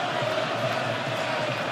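A stadium crowd roars for a goal at a Swiss Super League football match between FC Luzern and Young Boys. The cheering forms a loud, dense, continuous wash from start to finish, with no commentary over it.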